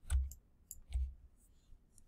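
A computer mouse clicks a few times in a quiet room during 3D modelling work in Maya 2016, soft close taps in two small clusters with faint low thumps, no talking.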